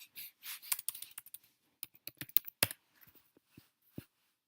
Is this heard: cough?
no